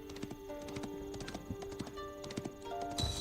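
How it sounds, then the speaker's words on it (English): Horse hooves clip-clopping at a steady gallop rhythm in the medieval strategy game Age of Empires IV, repeated sharp hoof strikes over a low game ambience with a faint musical hum. "With each gallop of his horse's hooves, more of Guillaume's land was revealed to him."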